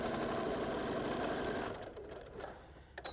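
A sewing machine runs steadily, stitching a quarter-inch seam on a Christmas stocking, then stops after about a second and a half, leaving only faint handling clicks.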